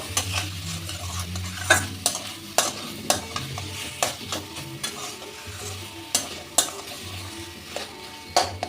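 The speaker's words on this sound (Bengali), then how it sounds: "কাঁচা লঙ্কা আর নারকেলটা দিয়ে আমি এক মিনিট মতন ভেজে নিলাম" Grated coconut and green chillies stir-fried in a pan for a taro-leaf ghonto with fennel: a steady close sizzle with a spatula scraping and knocking the pan every second or so, and no talking.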